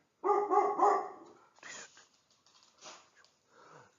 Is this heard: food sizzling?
no